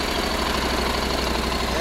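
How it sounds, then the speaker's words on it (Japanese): A Honda NC700S motorcycle engine idles steadily at close range, a continuous low rumble with an even throb and no change in revs. "エンジンお願いします。"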